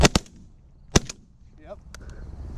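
Shotgun blasts fired at pigeons in a city setting, two quick close shots followed by a third about a second later, with brief voices afterward.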